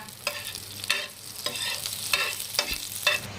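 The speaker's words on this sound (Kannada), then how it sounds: "ಬಟರ್ ಹಾಕಿ ಪೂರ್ತಿ ಬಟರ್ ಮೆಲ್ಟ್ ಮಾಡ್ಕೊಳ್ಳೋಣ್ರಿ ಈ ತರ" Butter melting in a hot pan as the first step of an egg pudina curry, a close, crackling sizzle broken by rhythmic scraping strokes roughly every half second, with no talking.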